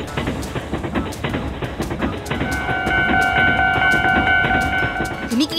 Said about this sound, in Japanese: 踏切の音や電車の走る音、駅のアナウンスが流れるんだ